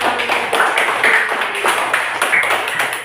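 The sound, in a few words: clapping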